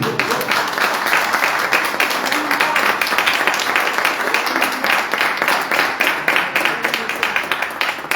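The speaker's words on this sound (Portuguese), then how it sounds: "Você pode aplaudir o Senhor Jesus?" Steady applause from a church congregation, dense clapping that holds at an even level throughout with no pauses.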